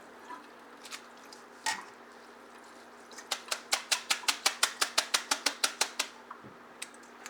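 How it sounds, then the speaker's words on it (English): Water drips off rinsed shirataki noodles as they are shaken, first a few scattered drops, then a quick regular run of about fifteen sharp, close splats before it tapers to a final few. "Alright, shaking the water off."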